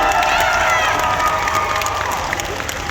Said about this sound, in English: Give me a round of applause for Dr.